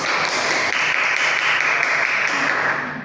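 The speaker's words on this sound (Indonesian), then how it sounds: "Tepuk tangan dulu untuk Fatimah Zahra." Classmates clapping for Fatimah Zahra in a classroom, a steady wash of applause throughout that tapers off at the end, with little speech.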